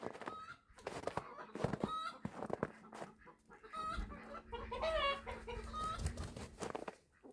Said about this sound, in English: I think that was an egg song from one of the hens.